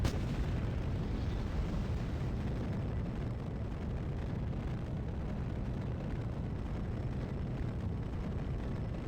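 Rocket motors fire in Kerbal Space Program as a steady, deep roaring rumble that stays fairly loud and unbroken for about nine seconds, with no voices.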